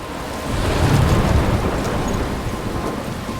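Thunderstorm with steady heavy rain in Life Is Strange, a deep rolling thunder rumble swelling up early and fading slowly beneath continuous downpour hiss, no talk.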